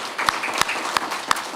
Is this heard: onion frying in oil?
no